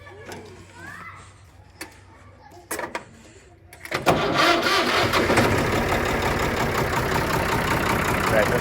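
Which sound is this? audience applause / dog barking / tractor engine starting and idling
tractor engine starting and idling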